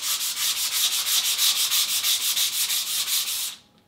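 Close, steady back-and-forth rasping as 150-grit sandpaper is worked by hand over a waterborne wood finish, about a dozen even strokes before it stops.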